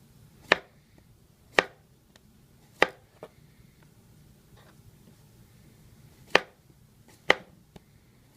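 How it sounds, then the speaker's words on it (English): A knife slicing a cucumber on a cutting board: five or six sharp, close chops spaced unevenly against a quiet room hum. "Next, I just want to form even slices moving down the length of the cucumber."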